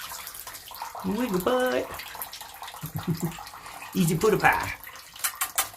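A shower runs steadily as a parrot, a green-cheeked conure, bathes, the hiss of the spray continuing beneath a person's repeated speech and bird-like vocal chirps.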